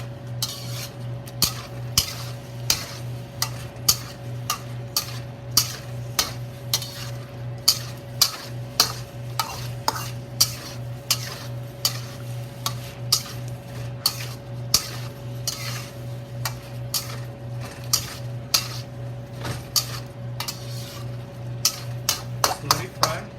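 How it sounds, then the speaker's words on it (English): A utensil stirs sauce into shrimp scrambled eggs in a frying pan, with regular clinks and scrapes against the pan over a low steady hum and soft sizzle. "we add this sauce into it, stir it, we add it to it"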